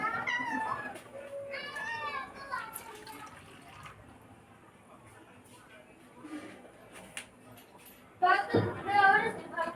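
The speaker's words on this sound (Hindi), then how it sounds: "ये मियाऊं मियाऊं करके फिर मांगती हैं" A pet cat meows for milk in a home kitchen, a few high, wavering cries near the start and then louder, closer meows toward the end, with quiet kitchen clatter and a voice in between.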